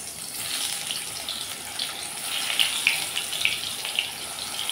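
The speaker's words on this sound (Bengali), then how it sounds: "আমি এখন পটলগুলোকে ভেজে নেব।" Pointed gourd pieces fry in hot mustard oil in a kadai, giving a steady, close hiss of sizzling with a few sharper crackles and pops, and no voices.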